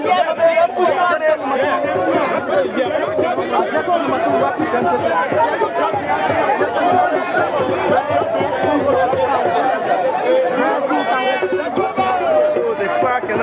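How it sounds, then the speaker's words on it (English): An unruly crowd chatters loudly and continuously around a vehicle carrying Fonati Koffa in Monrovia, with many overlapping voices, shouts and close jostling babble that never lets up. "So the crowd cannot be controlled."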